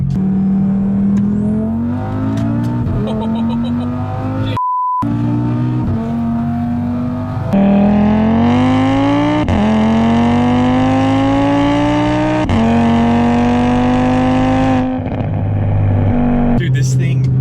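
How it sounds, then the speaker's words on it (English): An Audi RS3 with a 600 hp five-cylinder engine revs hard and loud, its exhaust note climbing through repeated pulls with abrupt gear shifts and one short break, heard up close. "the 5-cylinder, the exhaust sounds sick"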